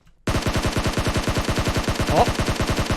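Rapid automatic gunfire in PUBG Mobile on the snowy Vikendi map, a fast even burst of about twenty shots after a short silence, loud and close.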